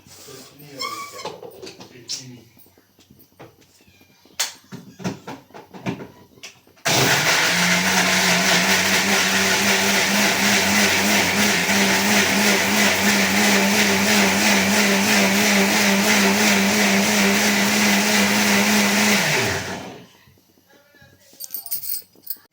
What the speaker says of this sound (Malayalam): നമുക്ക് ചട്നി അരക്കാം